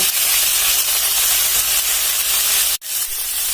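Elephant foot yam stems fry in a pan with a steady, close hiss and sizzle as their moisture cooks off, cutting out abruptly near the end before a quieter sizzle resumes.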